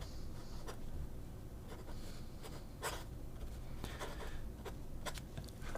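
An ultraflex extra-fine steel dip-pen nib scratches across paper in quiet, irregular strokes and taps, close up with a faint background hiss.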